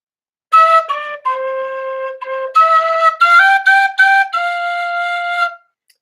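A gentle phrase on a small wind instrument, fingered by covering holes one to three, rises and falls through several clear sustained notes with short breaks between them, played alone and close.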